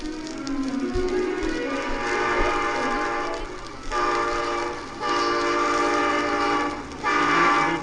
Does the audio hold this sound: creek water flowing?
no